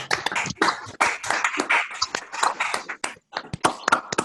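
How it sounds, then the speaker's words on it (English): An audience at an evening conservation lecture breaks into a round of applause: dense, irregular clapping from many hands, loud and sustained before thinning out, with no speech. "Let's give them a round of applause."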